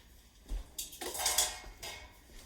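A metal spoon clinks and scrapes against a pot of simmering beef stock while grease is skimmed off the surface, a few soft knocks and a brighter scraping stretch, close and quiet with no talk.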